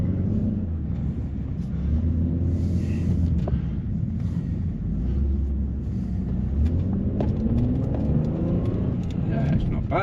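A four-wheel-drive Jaguar on winter tyres driving around the block on about four inches of snow, heard from inside as a continuous low engine and road rumble under almost constant talk.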